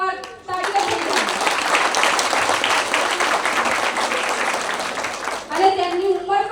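At a Guru Purnima gathering in Adelaide, an audience applauds young children of about five after their recitation: a full burst of clapping lasting several seconds, with a voice speaking just before and after.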